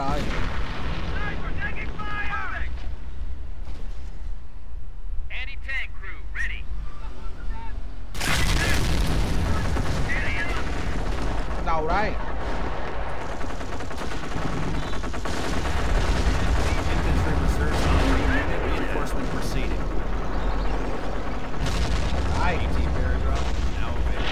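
Company of Heroes battle with artillery fire: repeated heavy booms and rumbling blasts mixed with gunfire, loud and continuous, as voices speak over the combat.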